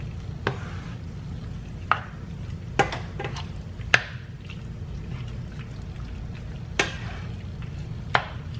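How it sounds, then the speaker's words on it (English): Ingredients are stirred around a pan on a home stovetop with a spoon, with a handful of sharp scrapes and taps against the metal spread irregularly over a steady low hum. No one speaks. "Just mix it around."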